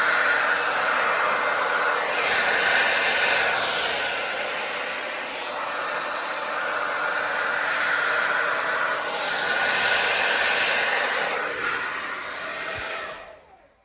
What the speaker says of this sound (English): I'm going to blow it out with the hair dryer